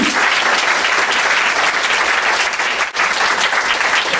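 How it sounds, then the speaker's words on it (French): Steady, dense applause from an audience fills the hall at the official prize-giving ceremony for the Paris-Colmar race walk, continuous clapping throughout with only a brief dip near the end. "Un petit bravo pour Anne-Marie, s'il vous plaît"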